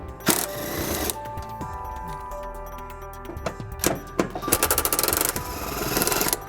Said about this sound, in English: we're going to remove these two bolts on the bottom of the frame, and we're going to be using an 18mm socket to do that.